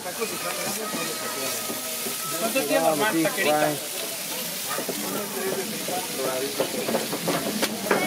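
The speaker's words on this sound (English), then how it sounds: "They put a little uh, oil on the stuckos and throw them on the grill." Steady oily sizzle and hiss of tortillas frying on an oiled street grill at a Mazatlan taco stand on a Sunday night, continuous under nearby talking voices.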